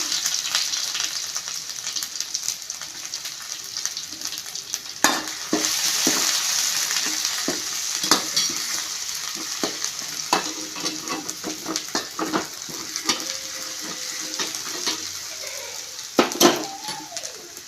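Ginger garlic paste frying in a pan for a Kerala-style egg roast, a steady close sizzle broken by repeated scraping and clinking as a spoon stirs it.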